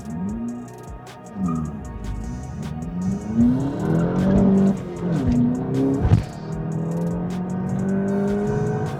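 A manual front-wheel-drive Volkswagen Golf GTI accelerates hard, its engine note rising and falling through several gear changes with brief tyre chirp, loud and close from start to finish.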